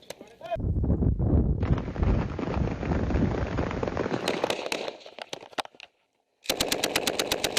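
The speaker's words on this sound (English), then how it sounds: "They're shooting the wall." Bursts of rapid gunshots striking a wall, loud clattering volleys with sharp impacts, a short silent gap, then another rapid string of cracks; a voice is heard amid the shooting.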